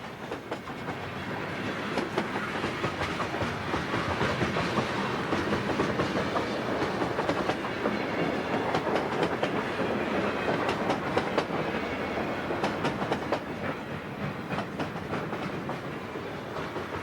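A heavy freight train accelerating at full power rumbles steadily past on Tennessee Pass, a dense continuous roar of wheels with faint clickety-clack rhythm, loud and sustained throughout.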